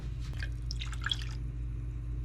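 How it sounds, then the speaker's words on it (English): A little water swished back and forth inside a tomato sauce can to rinse out the leftover sauce, giving brief wet sloshing and dripping sounds over steady low kitchen hum. "Gonna add a little bit of water to the can and swish it back and forth just to get the sauce out."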